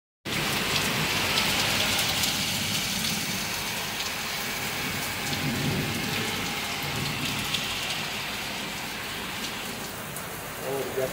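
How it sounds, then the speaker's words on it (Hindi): Heavy rain pours steadily in a dense, continuous hiss that stays loud throughout, drops drumming on surfaces close by, with no pauses and only slight easing toward the end. "बारिश अभी और तेज होने वाली है, अभी और तेज हो रही है"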